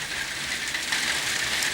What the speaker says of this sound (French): il pleut super fort